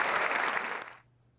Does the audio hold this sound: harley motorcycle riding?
no